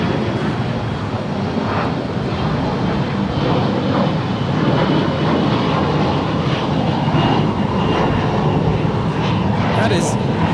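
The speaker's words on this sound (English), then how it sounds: "That is United Express 4693 departing to Redmond. It's a 6-year-old Embraer E175LR." A six-year-old United Express Embraer E175LR regional jet departs Los Angeles International Airport with a loud, sustained engine roar that fills the scene, broad and steady throughout, with faint air traffic radio chatter underneath.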